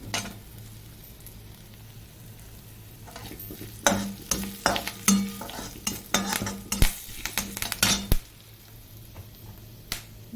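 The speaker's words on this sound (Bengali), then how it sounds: "এবার দিয়ে দিব আদা কুচি, এই দেখো দিয়ে দেবো কারি পাতা" Chopped ginger and curry leaves frying in oil for upma, giving a soft steady sizzle with a burst of loud crackling and spatter in the middle, plus a few sharp utensil taps against the pan.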